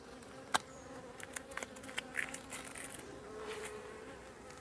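Honey bees buzz around an open hive during a honey harvest, a steady close drone with individual insects darting past, plus a few sharp clicks and knocks.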